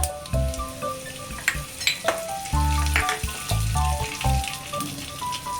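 Cumin, mustard seeds and curry leaves crackle and sizzle in hot oil in a pan for baingan bharta, a steady close frying hiss with sharp pops and bursts scattered throughout, no voices.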